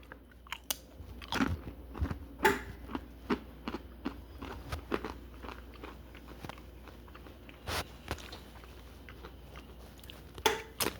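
Snack Factory pretzel chips are bitten and chewed close to the mic, giving repeated sharp crunches at irregular intervals over a quiet background, with no talk.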